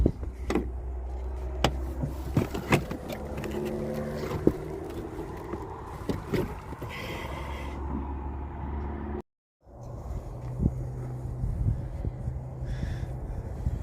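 A pickup truck drives along at an RC flying field, a steady low engine rumble with rattles and wind buffeting, cutting out briefly before resuming.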